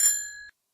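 A single bicycle bell ding rings out bright and close, its metallic tone decaying over about half a second before cutting off into silence.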